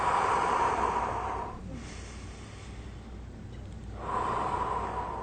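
A person breathes slowly during an eye exercise. A long audible inhale or exhale gives way to a quieter pause, then the airy breath returns, close and steady, with no words.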